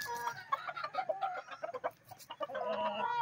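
Chickens on a farm, including a black alimbuyugin rooster, clucking and chattering in quick, uneven bursts close to the listener.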